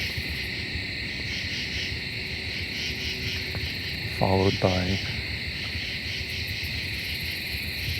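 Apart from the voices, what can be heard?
layered chorus of crickets, bush katydids and common true katydids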